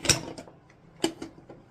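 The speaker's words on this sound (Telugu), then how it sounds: "కుక్కర్ మూత తీసేసుకొని" A metal pressure cooker lid opened in a home kitchen while cooking Andhra-style greens: a few sharp clanks and scraping clicks, close and moderately loud, spaced apart with quiet between.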